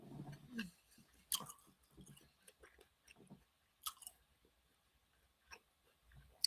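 Soft, close chewing and biting sounds come through: quiet irregular wet clicks and crunches spread across a few seconds with no voice heard.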